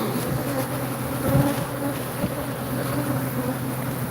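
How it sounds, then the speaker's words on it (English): A swarm of killer bees buzzes around a comb in a continuous, loud, dense drone that holds steady and close throughout. "We got to get under there and remove all the comb killer bee nation."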